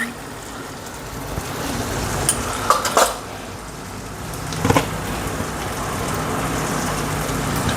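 Spices for chole fry in oil in a pan, a soft sizzle under light scraping as a spoon stirs them, with a few louder clinks of metal against the pot.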